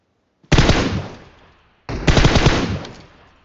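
Two loud bursts of rapid automatic gunfire sound in a video game, each a dense rattle lasting about a second with a decaying tail, separated by a short gap of silence.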